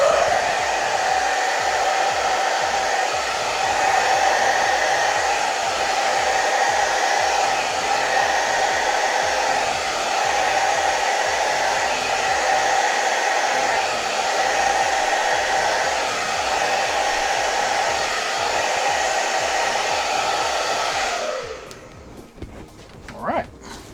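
Steady loud roar of a hair dryer blowing across an acrylic paint pour for about twenty seconds, then cutting off abruptly near the end, leaving faint rustling.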